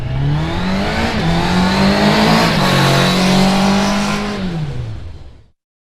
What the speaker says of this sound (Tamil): சீக்கிரம் ஓட்டு, சீக்கிரம்.